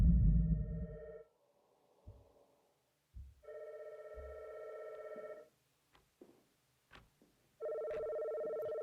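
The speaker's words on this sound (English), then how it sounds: "I've been ringing all morning. Please pick up the phone." A telephone rings in two-tone bursts, three separate rings with short gaps between them, loud and close, with a few soft thumps and clicks in the pauses and no voices.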